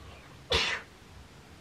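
A single sharp human sneeze bursts out close and loud in an otherwise quiet room, lasting about a quarter second.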